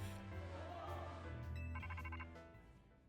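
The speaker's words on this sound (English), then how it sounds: "Oops, that's my phone, my bad." Phone ringtone chiming in Pokemon Legends Z-A, a short melodic ring of repeated bright notes over steady game music, fading toward the end.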